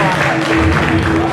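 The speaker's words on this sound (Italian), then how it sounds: "un applauso a Daniela" An audience at a regional Miss Europa beauty pageant final claps in a brief, dense burst of applause under a presenter's talk.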